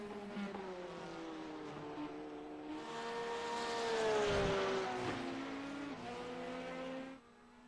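A GT3 race car pulling off pit road for its warm-up at Zolder, its engine note rising and falling through gear changes, swelling as it passes close by and then fading, with no talking.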